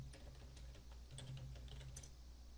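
Very faint keystrokes on a computer keyboard tap away in a soft, uneven patter beneath a steady low hum, with a few slightly sharper clicks standing out and no one talking.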